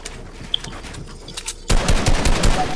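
Gunfire in Fortnite, a rapid automatic burst that starts abruptly partway through and continues loud and dense to the end, following quieter game ambience with a few faint clicks.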